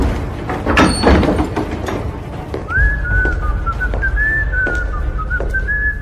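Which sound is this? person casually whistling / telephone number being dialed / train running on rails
person casually whistling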